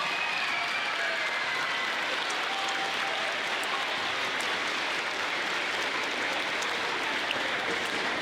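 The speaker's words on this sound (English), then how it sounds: "Let's give all of our sixth graders a big round of applause." Sustained audience applause at a school awards ceremony honoring sixth graders at Grundy School, a dense, steady clapping crowd filling the hall for the whole stretch with no speech over it.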